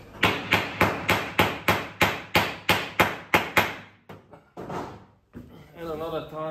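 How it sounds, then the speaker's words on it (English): Hammer blows ring against a metal vessel head, about a dozen sharp, evenly spaced strikes up close, followed by a few scattered knocks and a brief spoken voice at the end. "Again, my hammer."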